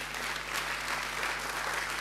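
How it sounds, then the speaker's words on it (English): Steady clapping from a conference audience, a continuous wash of applause at moderate level. "big applause once again for you"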